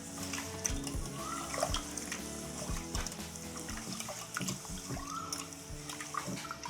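Finger millet (ragi) grains are washed by hand in a vessel of water, giving soft, continuous sloshing and trickling, faint and close with no voices.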